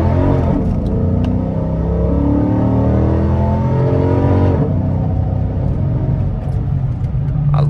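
An AWD Dodge Charger R/T engine revs loud and close, a steady deep rumble with rising and falling harmonics, then settles into a lower drone near the end.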